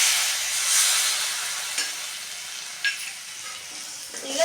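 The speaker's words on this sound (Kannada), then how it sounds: "ಈಗ ಚೆನ್ನಾಗಿ ಫ್ರೈ ಮಾಡೋಣ." Pudina rice frying in a pan with tamarind juice, a steady close sizzle with occasional stirring scrapes and knocks against the pan.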